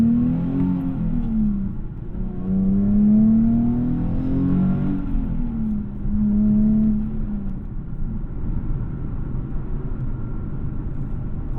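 Nissan 370Z sports car driving and accelerating, its engine droning and rising in pitch through several revving pulls, heard close from inside with a steady road rumble underneath.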